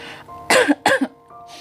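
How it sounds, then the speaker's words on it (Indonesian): Two quick, sharp coughs close by, one right after the other, in an otherwise quiet room. "Sorry aku batuk ya"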